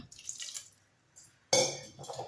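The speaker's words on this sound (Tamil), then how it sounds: "நம்ம வந்து கொஞ்சமாக தண்ணி விட்டுக்கலாம் அரைக்கிற அளவுக்கு மட்டும்" Water poured into a mixer grinder jar holding karpooravalli leaves, a short splashing trickle that pauses and then resumes in a brighter burst, close and clear with no talk over it.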